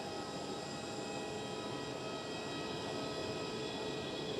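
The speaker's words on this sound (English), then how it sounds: "That's Pegasus Airbus A321neo." A Pegasus Airbus A321neo at Amsterdam Schiphol, jet engines holding a steady whining drone at moderate loudness, with no voices.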